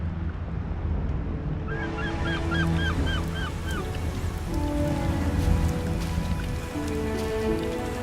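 Steady heavy rain pours in The Witcher video game, a dense wash of hiss throughout, with a short run of honking goose calls rising over it early on.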